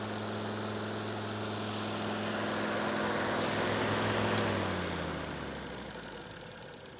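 An electric fan circulating air inside a greenhouse gives a steady, fairly loud droning hum with a tonal whine. Partway through it slows down, and the hum drops and fades toward the end. No one speaks.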